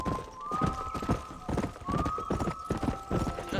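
Horse hooves clip-clop steadily in the Red Dead Redemption video game, a near galloping beat of muffled thuds with a whinny-like tone rising twice over the running hooves.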